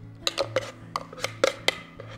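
Hazelnut dukkah spooned into a container, heard as a run of about eight sharp metallic clinks and scrapes of spoon against container, close and fairly quiet over a steady low kitchen hum, with no talking.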